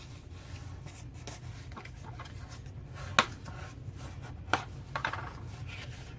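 A scoring tool drags along cardstock for a Stampin' Up Charming Cafe project, producing quiet close scratchy rubbing strokes punctuated by a couple of sharper taps, with no talking.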